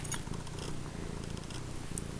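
A cat purrs close by, a soft, steady, rhythmic rumble that continues quietly throughout with no other sounds.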